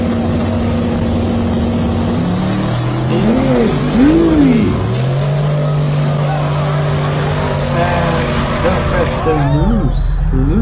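Chevy donk drag cars on big rims roar down a drag strip, engines droning steadily with rising and falling pitch sweeps as they accelerate, fairly loud and continuous, with faint voices mixed in.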